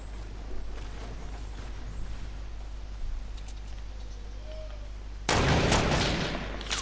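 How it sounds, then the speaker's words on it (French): Gunfire in the Fortnite battle royale game with a sniper mod, a sudden loud burst of shots near the end after a low steady background hum. "il tire"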